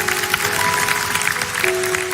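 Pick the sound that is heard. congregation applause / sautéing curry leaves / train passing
congregation applause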